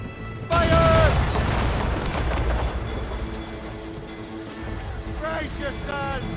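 Sailing warship cannons firing during a naval battle in Assassin's Creed Rogue, a loud booming volley followed by rolling gunfire, with shouted commands from the crew over the blasts.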